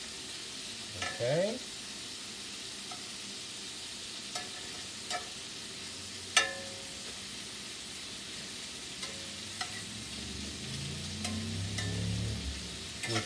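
Shrimp sizzle and fry in a hot pan for a salad, a steady crackling hiss with scattered clicks of a utensil, swelling louder near the end, while a voice briefly speaks.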